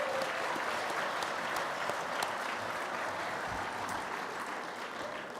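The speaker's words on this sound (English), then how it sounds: "Could we give them a round of applause?" Audience applause at an awards dinner, a steady, fairly distant wash of clapping from a large banquet crowd that holds evenly for several seconds.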